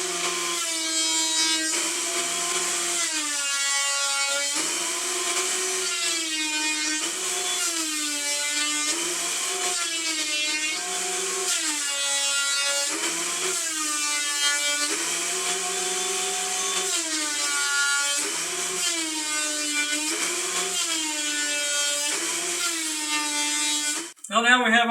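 A wood planer feeds poplar and pine boards for a small wooden crate, its motor whine running steadily and loudly throughout, rising and dipping as each board passes, then cutting off sharply at the end.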